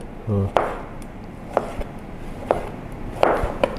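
A knife chops pickled cucumbers on a cutting board for homemade hamburgers, with sharp, close, evenly spaced cuts and a short low rumble near the start.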